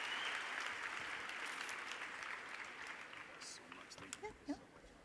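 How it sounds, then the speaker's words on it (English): Audience applause at a summit presentation, a steady wash of clapping from a crowd that gradually thins and fades, with a few louder individual claps near the end. "Can we give him one more round of applause?"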